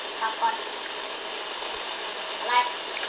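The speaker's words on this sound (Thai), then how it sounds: "ฝนตกบ้างนิโคตรเสียงดังเลย" Loud, steady rain pours down throughout, a dense continuous wash of noise with no pauses, under faint voices, during a Minecraft Skyblock server recording.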